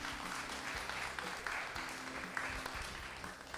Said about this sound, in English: Thank you very much. A round of applause.